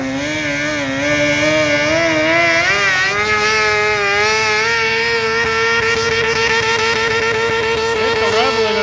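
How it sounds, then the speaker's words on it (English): A modified garden tractor engine screams at high revs, bouncing steadily against the rev limiter for several seconds, loud and close, with a faint voice underneath. "Hit the rev limiter on that."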